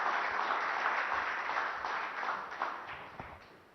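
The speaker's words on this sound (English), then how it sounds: "a huge round of applause for our speaker, Hardeep Singh Puri, Union Minister of Housing and Urban Affairs and Petroleum and Natural Gas" Audience applause for Union Minister Hardeep Singh Puri at a Business Today leadership awards event, a dense, steady wash of clapping that slowly tapers toward the end.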